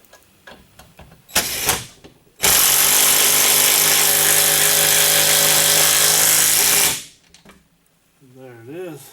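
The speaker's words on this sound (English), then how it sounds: "We'll put it in our drill. Makes things go a little faster" A cordless power drill drives screws into a cheap swivel TV mount, a short burst followed by a long, loud, steady whir of several seconds that cuts off abruptly, with a voice talking briefly afterward.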